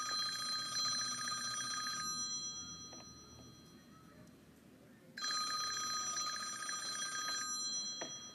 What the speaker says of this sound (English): The classroom phone rang.